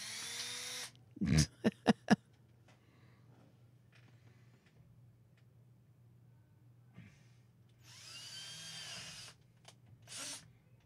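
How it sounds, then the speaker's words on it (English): Short bursts of a power drill whirring in quick succession, followed by quieter clicks and a longer buzzing run, against a low steady hum. "Drill."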